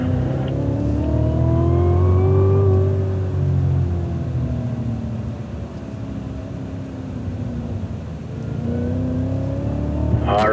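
A 2016 Cadillac CTS-V engine revs hard and loud as the car accelerates on a track, its rising harmonic whine easing off mid-pass and then climbing again near the end, with no talking over it.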